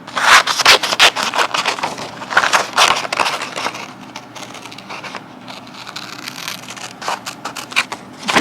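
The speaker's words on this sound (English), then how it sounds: "Get the scissors out and snip, snip, snip." Scissors cut out colored paper frog shapes with close, crisp snips and rustling paper, bursts of cutting separated by quieter handling.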